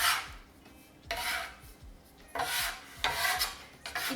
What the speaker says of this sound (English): I will switch over to a bench scraper right now though.